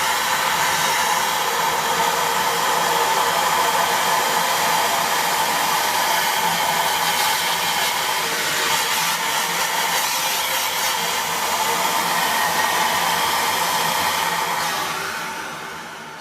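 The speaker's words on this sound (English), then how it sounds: "So we can put the vacuum cleaner, dusting brush, onto the end of there, and it'll suck it straight through." A Dyson V6 or V8 cordless vacuum cleaner with a dusting brush fitted runs at high power, giving a steady, loud, close whine with no talking, then winds down slightly at the very end.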